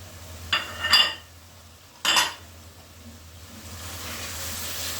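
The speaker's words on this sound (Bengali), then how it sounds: "এই আলুগুলো দিয়ে দেবো এখন।" Pre-fried potatoes go into a pan with clattering scrapes and clinks of a spoon against the metal, in two short bursts. A soft sizzle of oil continues underneath.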